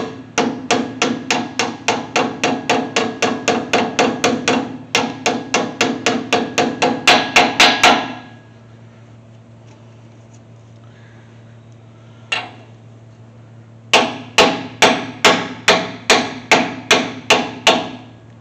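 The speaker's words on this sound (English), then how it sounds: "I'm confident with a ball peen hammer" Ball peen hammer tapping an axle seal into place on a 1979 Chevy C10 during a gear and locker install: rapid, regular metallic strikes in close bursts, a quiet pause with one lone hit, then another rhythmic run.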